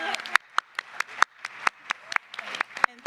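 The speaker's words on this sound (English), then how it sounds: "I would like to give Keisha and Abir a round of applause." A small conference audience gives scattered, sparse claps, roughly a dozen separate sharp hand claps spaced irregularly, fairly close and moderately quiet.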